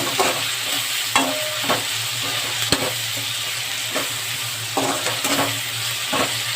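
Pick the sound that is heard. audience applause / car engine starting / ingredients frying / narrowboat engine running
ingredients frying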